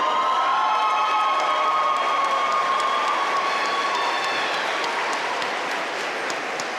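Commencement audience giving a sustained round of applause mixed with cheering and whoops, a dense, even wash of clapping from a large crowd heard at a distance, holding steady throughout and easing slightly toward the end.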